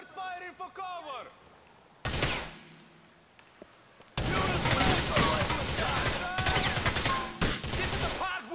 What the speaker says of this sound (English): Start firing for cover.